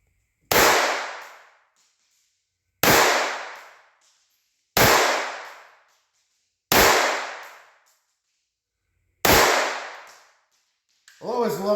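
Five sharp, loud gunshots from Walther PPK/S and P22Q .22 pistols firing CCI Stinger ammunition, each crack followed by a short decaying echo, spaced about two seconds apart, with a voice starting at the end.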